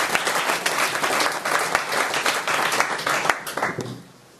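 Convention crowd applauding a speaker at a regional youth centrist gathering, dense, loud clapping from many hands that holds steady for about four seconds before tapering away.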